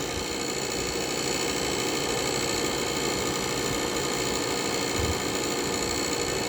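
A loud, steady buzzing hum of an air conditioner compressor running continuously, close by with no talking.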